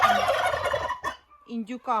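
Turkeys gobble close by in a loud, rattling burst, followed by a short pause and a few quicker gobbling calls.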